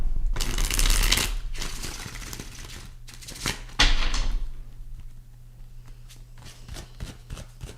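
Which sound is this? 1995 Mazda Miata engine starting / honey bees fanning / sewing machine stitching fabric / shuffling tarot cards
shuffling tarot cards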